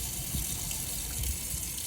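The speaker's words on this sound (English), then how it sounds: "So just pull the tap down and pull the water." Cold water runs steadily from the kitchen tap of a Hymer B564 motorhome, a constant broadband gush with a low rumble underneath, close and fairly loud throughout with no talking.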